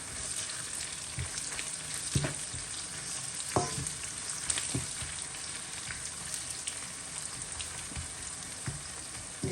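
Onions, garlic and ginger frying in a pan for a Jaffna-style mutton curry, a steady close sizzle with occasional stirring scrapes and clinks, no talking.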